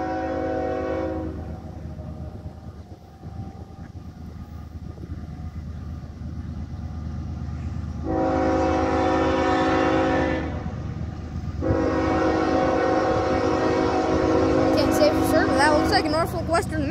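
Norfolk Western heritage unit leading a Norfolk Southern manifest freight train, its multi-tone horn blowing in long loud blasts over the rumble and rolling of the passing train, close by, with a brief chirpy sound near the end.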